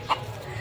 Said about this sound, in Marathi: अँड खूप साऱ्या कोंबड्या पण आहेत.